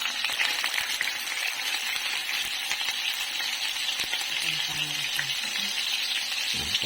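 Pork steak frying in hot oil, a dense, even crackling sizzle that holds steady up close, with a faint clink or two and no speech.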